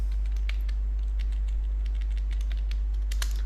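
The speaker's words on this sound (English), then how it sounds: "So here we need to type" Light keystrokes on a computer keyboard while entering a web address, a sparse run of soft clicks over a steady low electrical hum, with no talking.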